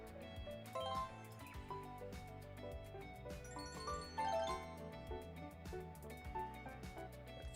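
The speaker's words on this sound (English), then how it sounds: "It's like almost like a kind of jingle bells." Unexpected jingle-bells-like music plays from an iPad, a bright tinkling melody of chiming bell tones over a steady backing, at moderate level throughout with no talking.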